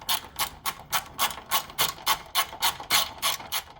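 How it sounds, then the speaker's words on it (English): Rapid, steady clicking of a 10 mm socket ratchet turning out an alternator line bolt on a 2015 Honda Civic Si, a dozen close, even pawl clicks in a regular rhythm, loud and alone. "In order to remove the line bolt, guys, you're gonna have to have a 10 millimeter socket."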